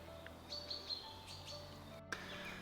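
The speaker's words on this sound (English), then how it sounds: "And to hear the birds sing." Birds singing in a spring forest, scattered faint chirps and short song phrases at a distance over quiet ambience, with a brief knock partway through.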